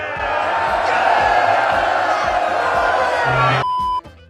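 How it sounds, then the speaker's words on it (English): A large crowd of film extras cheers and roars together in a loud, sustained swell of yelling voices that cuts off abruptly near the end, leaving a brief tone. "Mark Addy then started cheering to get the extras to join in"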